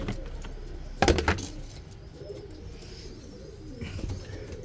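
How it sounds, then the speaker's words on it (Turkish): Pet pigeons or doves being given grain as feed: soft cooing and bird calls over a quiet background, with a brief clattering burst early on. "Bakalım acıkmışlar mı, azıcık yem verelim."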